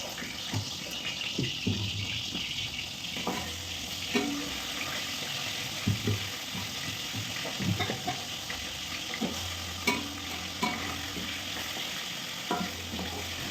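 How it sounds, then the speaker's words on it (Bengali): Fish heads fry in a pan of hot oil with a steady, close sizzle, broken by occasional clinks and scrapes of stirring. "এখন আমি ভেজে নেবো হচ্ছে মাছের মাথাগুলো আগে ভেজে নেবো"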